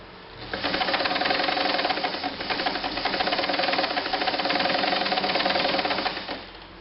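Kenmore 158.510 sewing machine stitching a practice scrap, a close steady rapid mechanical chatter running about six seconds with a brief slowdown midway, starting and stopping cleanly.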